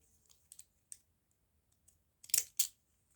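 Crunchy decorative-edge scissors cut through paper strips in a few sharp, close snips, ending in two louder crisp cuts.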